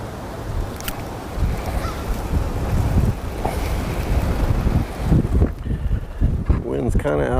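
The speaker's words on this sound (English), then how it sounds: "wind's kind of out of the west, so it's going to be blowing me that direction." Wind blowing from the west over open water near a boat, buffeting the microphone with steady loud rumbling gusts and lapping water throughout.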